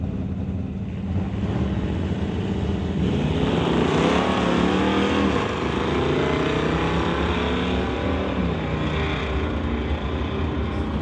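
An Oldsmobile drag racing car at a drag strip drives hard down the track, its loud engine roaring continuously and rising in pitch as it pulls away, with no talk.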